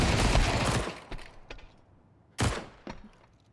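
Desert Eagle shots ring out during a Counter-Strike match on Overpass, a burst of loud cracks followed by a few sharp, separate single shots, with metallic clicks between them and no talk.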